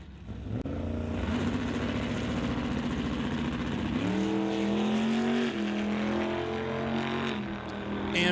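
Drag race cars, including a Plymouth, at a non-electronic series event at Doorwarz 11, roar loudly and steadily down the strip, the engine tone climbing through gear shifts over a continuous wash of crowd-level noise.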